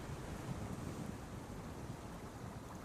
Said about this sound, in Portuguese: Essa correnteza é rápida demais. O gelo derretido está indo para o oceano.